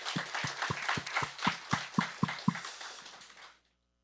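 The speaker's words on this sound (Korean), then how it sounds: "그 하나님께 두 번째 큰 박수를 한번 올려드리겠습니다" Church congregation clapping together at a Sunday worship service, a steady rhythmic beat of hand claps around four per second filling the room, then stopping abruptly and leaving silence.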